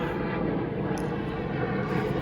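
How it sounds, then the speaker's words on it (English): An airplane passes overhead as a broad, steady rumbling drone that stays loud throughout the short stretch, with no voices. "another plane, of course"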